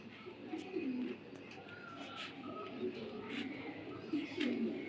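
Racing pigeons at a sale coo in low, soft repeated phrases close by, with occasional brief chirps and faint voices in the background.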